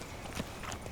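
Horse hooves clip-clopping in The Witcher 3 as a rider mounts and sets off, a few soft irregular hoof falls over steady background ambience, no talk.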